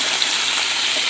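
Hot water from boiled potatoes gushes as it is poured into a bowl, a brief, steady, close splashing stream with nothing else heard.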